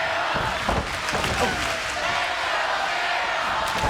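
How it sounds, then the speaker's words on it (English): Wrestling arena crowd at a TNA event chanting for Shamrock, a dense roar of massed voices and rhythmic shouting filling the space, with a commentator talking over it. "Listen to the crowd chanting, "Let's go, Shamrock!""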